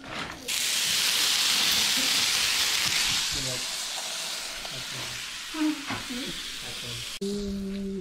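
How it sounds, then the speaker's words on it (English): Food sizzles in a hot frying pan, probably meat, as a steady loud hiss that starts abruptly and holds for several seconds, easing slightly, with brief voices and clatter breaking in near the end. "Listen for the sizzle."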